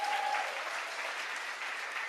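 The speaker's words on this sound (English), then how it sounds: "Let's give a round of applause for that." Steady audience applause at a Maryland arts advocacy event, a short, even wash of clapping from a crowd at moderate distance.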